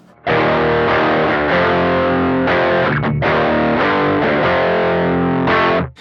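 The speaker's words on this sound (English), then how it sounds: "Let's go ahead and turn on circuit 1, the clon style." An electric guitar through the Beetronics Wannabee pedal's Klon-style overdrive circuit plays loud, sustained distorted chords in several strummed phrases with brief gaps, dry and close.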